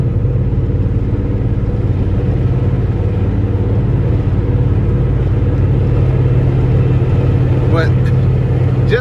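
A 1989 Toyota MR2 with a 1.6-litre four-cylinder engine at about 140K miles hums steadily while driving, a loud constant low engine drone with road rumble filling the cabin, no talking over it.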